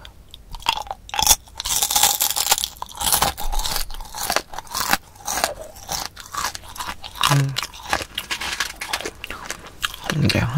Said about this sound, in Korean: 내가 일반 팝콘보다 캐러멜 팝콘을 좋아하는 게 일반 팝콘보다 훨씬 바삭하고 달달하잖아요